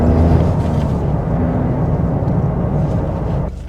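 A 2024 Toyota GR Corolla hatchback with a manual gearbox drones loudly and steadily from inside the cabin, its rumble easing suddenly just before the end.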